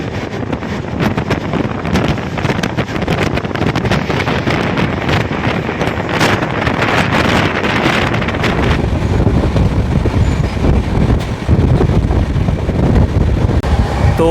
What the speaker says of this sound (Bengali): ট্রেন এখন পুরো ধুলো উড়িয়ে এগোচ্ছে